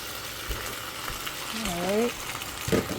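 Sauce stirred into peppers frying in a pan for pepper steak gives a close, busy sizzle with soft stirring scrapes, and a brief voiced sound rises over it midway.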